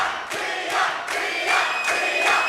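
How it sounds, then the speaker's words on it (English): Hometown crowd at a women's strawweight combat sports bout cheering and roaring in loud swelling waves, with shouts rising over the arena din and no commentary heard. "So the hometown crowd getting behind Tiah."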